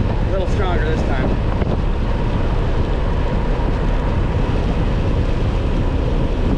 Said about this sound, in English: Oh yeah, there is a wind.